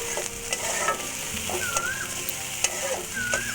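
Onion fries in mustard oil in a pan for a Bengali prawn and potato dish, a continuous loud sizzle broken by light stirring scrapes and a few small clinks, with no talk over it.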